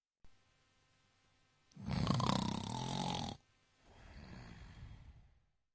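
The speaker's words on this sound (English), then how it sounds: "It's snoring." A person snores in two long breaths: a quiet lead-in, then a loud rasping inhale, a brief pause and a softer, rougher exhale, heard alone and close.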